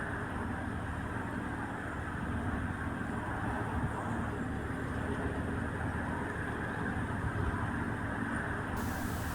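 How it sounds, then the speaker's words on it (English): Steady, distant road traffic forms a low continuous rumble, heard from a canal narrowboat cruising toward Gayton after filling its water tanks, with no voices and an even level throughout. "It would be quite peaceful, but you can hear the traffic noise in the distance."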